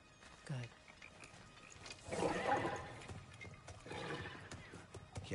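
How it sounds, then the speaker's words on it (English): A kelpie, a horse-like creature in the video game God of War Ragnarok, gives a loud whinny in the middle, with hoof and gear-like clatter around it and a softer snort later. "A kelpie. Horse."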